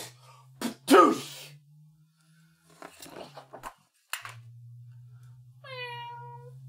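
A performer's voice imitates a cat meowing in an a cappella vocal sound-effects piece, giving two drawn-out, nasal meows close to the mic with a low steady hum underneath and brief vocal noises between them.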